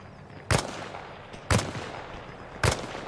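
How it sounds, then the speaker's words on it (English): Three sharp, evenly spaced sniper rifle shots crack out in the video game Arma Reforger, each a loud, abrupt report that decays quickly over a low background hum. "I have sniper fire from somewhere."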